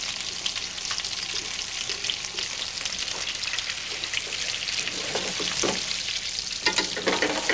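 Pheasant breasts laid meat side first and sautéing in a hot pan, producing a dense, steady sizzle with crackling pops and occasional stirring sounds, close and without speech.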